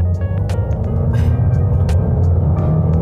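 Honda Odyssey 2018 MPV with a naturally aspirated engine accelerating hard from 0 to 100 km/h, heard from inside the cabin as a steady, loud low engine rumble and road drone with no speech.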